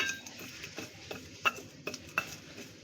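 A spoon mixes ingredients for KFC-style french fries in a bowl, giving light scraping and clinking strokes, a few sharper knocks standing out, with no talking.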